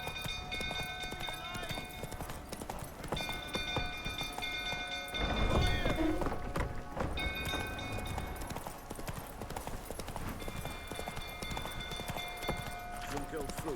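A horse gallops in The Witcher 3 video game, a steady rapid hoof rhythm running throughout amid background game sounds, with a louder burst midway.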